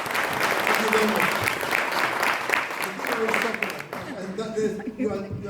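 Political rally crowd clapping in support at the end of a speech, sustained loud applause that fades and thins out toward the end as voices come through.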